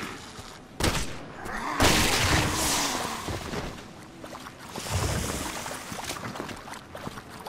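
Gunfire and booming impacts in the video game Resident Evil 6, with a sharp loud burst followed by rumbling, rolling blasts and scattered action noise.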